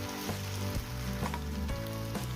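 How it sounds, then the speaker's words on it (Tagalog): Potatoes fry in a pan with a steady, close sizzle and crackle, broken by a few soft knocks of a utensil at a regular pace. "piniprito ko lang."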